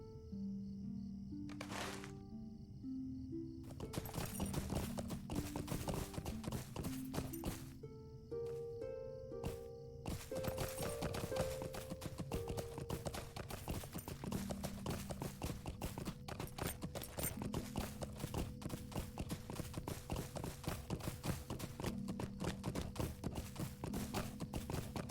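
A horse being ridden in the video game Lord of the Rings Online clip-clops steadily throughout. Its hooves beat a quick rhythm under a gentle musical score. No one speaks.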